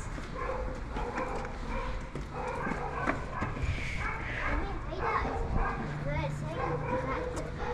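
Dog barking along a street in the Philippines, heard near a church, under steady outdoor bustle with scattered voices and what may be hoof clops, the barks mixed into the busy background rather than standing alone.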